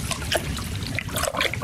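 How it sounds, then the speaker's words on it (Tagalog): Water spilling over and overflowing from a well, a continuous splashing trickle with bubbling gurgles and irregular droplets, close and steady throughout. "umaapaw na muli ang tubig sa balon"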